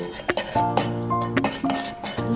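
Egg masala stirred in a pan, a spoon clinking and scraping against the metal in quick uneven strokes, close and fairly loud, without speech.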